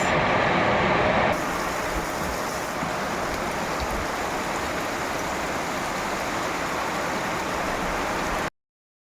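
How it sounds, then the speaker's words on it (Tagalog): Heavy rain pours down steadily, a dense continuous hiss that holds at the same loudness and then cuts off abruptly. "Grabe ang lakas ng ulan."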